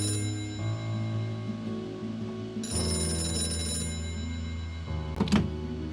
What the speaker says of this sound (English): That phone is about to ring.